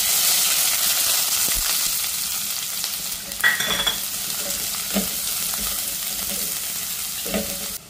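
Finely chopped onion hits hot tempering oil with cumin seeds, giving a loud, continuous close sizzle with a few brief stirring clinks and scrapes over it.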